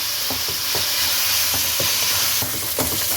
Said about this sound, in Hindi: लहसुन अदरक पेस्ट को इसमें भून लें